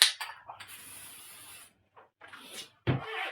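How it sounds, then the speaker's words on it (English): Spray adhesive hisses in close bursts, a long steady one followed by shorter puffs, with quiet pauses between them. "Lock that in with the spray adhesive."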